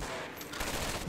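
Gunfire in the World War II shooter Medal of Honor: Vanguard, a burst of rapid close-range shots crackling over constant battle noise for about a second, with no speech.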